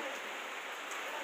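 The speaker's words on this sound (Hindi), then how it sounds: "देखो ये देखो कितनी बारिश हो रही है, कितनी तेज़" Heavy rain pours down steadily in a village, a dense, continuous hiss that is close and even throughout, with no voices.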